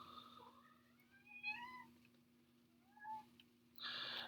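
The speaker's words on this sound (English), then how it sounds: "I apologize if you hear my cat in the background" A house cat meows several times in the background, faint rising and falling cries in a quiet room, ending with a short louder burst of noise.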